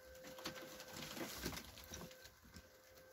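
Pigeons softly cooing in a loft, low murmuring coos repeating under faint background hum, fairly quiet and close, with no talking.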